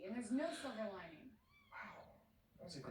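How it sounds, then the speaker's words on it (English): A cat meows loudly several times at close range, with drawn-out, wavering cries that come in separate bursts over a few seconds, and no talking alongside them. "This cat's psycho."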